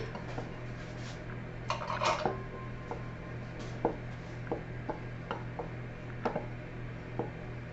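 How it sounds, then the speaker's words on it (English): Muffin batter ingredients are stirred together in a bowl, with soft, irregular spoon taps and scrapes against the side, faint and close, over a low steady hum. "Just stir these together."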